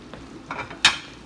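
Pats of butter dropped onto grilled frozen porterhouse steaks, a brief scrape and stir followed by a sharp burst of sizzle, close and short.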